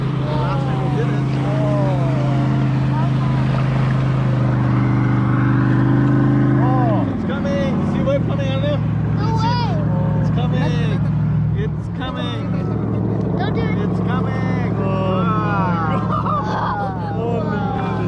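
A motorboat passes on a lake with a loud droning engine whose pitch drops as it goes by. Excited voices talk over it, heard from an inflatable kayak out on the water.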